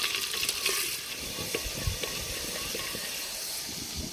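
Ginger-garlic paste and green chilies frying over a strongly burning outdoor village stove, a continuous moderate sizzle with scattered stirring clicks and a faint background tone.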